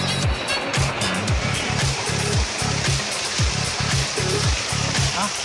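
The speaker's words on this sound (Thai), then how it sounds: "น้ำตกตาดยาวนะครับ" Rushing water pours at Tad Yao waterfall in Uttaradit, Thailand, a loud, steady broadband roar close by, with regular low thumps rolling underneath throughout.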